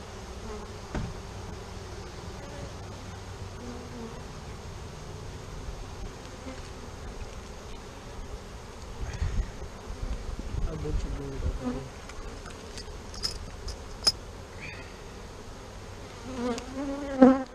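Honeybees buzz at an open hive during an inspection with smoke, a dense, steady drone of many insects close by, with brief louder individual buzzes passing near toward the end.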